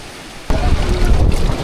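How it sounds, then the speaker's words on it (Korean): A boat arrives on choughy sea water in the open, heard as a sudden loud rush of engine and water noise mixed with heavy wind buffeting the microphone, steady after an abrupt start. "배가 도착했네요."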